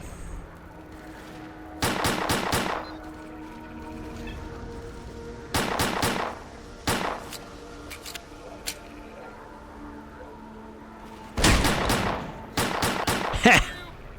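Gunfire in the video game S.T.A.L.K.E.R.: Clear Sky, with loud bursts of rapid shots in separate clusters and quieter pauses between them.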